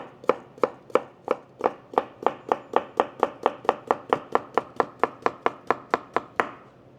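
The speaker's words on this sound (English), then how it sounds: "All right, so I'm in a rush, so I'm just gonna chop it up, okay?" A knife chops cucumber on a cutting board in a fast, even rhythm of about two dozen crisp, close strikes, with no voices.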